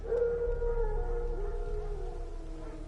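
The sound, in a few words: wolves howling in the video game The Witcher 3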